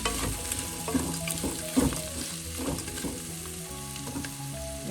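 Chopped onions sizzle and crackle steadily in a pan for a mint chicken curry, with stirring scrapes and clatters mixed in through the whole stretch.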